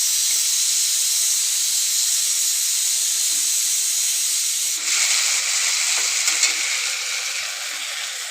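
Ground chilli and onion paste with spices frying in a pan, a steady loud hiss and sizzle that runs the whole time with slight surges near the end.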